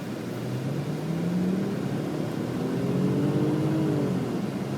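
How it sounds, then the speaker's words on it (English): A 2000 Audi S4 engine running smoothly at a steady, moderate level, with a low hum and faint rising tonal whine and no talking. "Very healthy engine."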